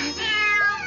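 A cat gives one clear, close meow that rises and then falls while being fed leftover sushi in a cartoon scene.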